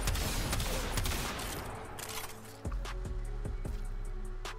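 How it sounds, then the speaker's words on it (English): A Tombfinger gun fires charged shots in Warframe. A loud, noisy burst of fire fades and is followed by a string of sharp, separate shots over a steady background hum. "charge up your shots. Apply some status and then shoot them."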